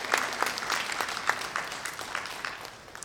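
Audience applause for mentors at a junior honor society induction ceremony, steady rapid clapping from a seated crowd throughout.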